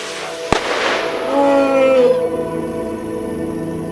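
A single sharp firecracker bang rings out in Munnar to drive off wild elephants, followed by a crackling burst and a long whistling tone, loud and close.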